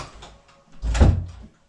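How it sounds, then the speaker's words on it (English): A household door swings shut with a solid, fairly loud thud close by, preceded by a faint shuffle of movement. "I'm gonna close the door."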